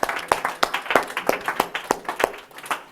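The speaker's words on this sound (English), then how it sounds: "Give them a round of applause for sure" A small room of sales team members gives a short round of applause for new recruits, sharp individual claps in a loose, uneven rhythm, close and fairly loud.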